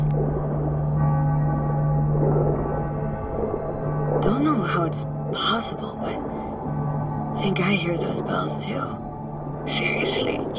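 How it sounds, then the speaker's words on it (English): Cracked church bells in the video game Cyberpunk 2077 ring out as eerie, atonal clangs, a low sustained tone repeating in a slow pulse under someone speaking quietly. "Bells were cracked too. Gave off this eerie, atonal clang."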